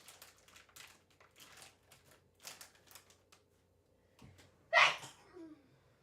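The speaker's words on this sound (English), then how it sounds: "Oh, I have to sneeze." A single loud, close sneeze bursts out near the end, following a stretch of soft keyboard-like clicking and faint crinkling.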